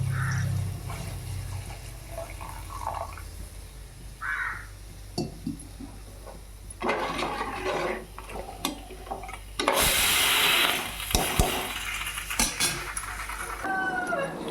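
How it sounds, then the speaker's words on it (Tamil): Rinse water from a mixer jar is poured into a cooker in a home kitchen. Intermittent splashes and trickling come in bursts, with a louder gush near the end and clinks in between. "மிக்சி ஜார் கழுவுன தண்ணி ஊற்றிடுறேன்"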